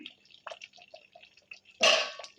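Egg gravy boiling in a pan on low flame gives soft, scattered bubbling pops and drips, quiet and close, ending in one brief louder splashy burst.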